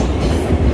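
A subway train rumbles loudly and continuously, with a heavy low roar and faint rhythmic wheel clatter, close up and without voices.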